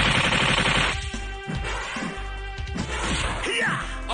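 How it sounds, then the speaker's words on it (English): Cyclops firing his optic blast in X-Men vs Street Fighter, a burst of crashing, rapid-fire impact sounds with whooshes, loud and dense, breaking into choppy hits mixed with game effects. "Optic blast!"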